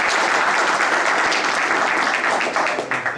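A transit coalition meeting audience claps in a short, full burst of applause that stays loud and steady before easing slightly at the end.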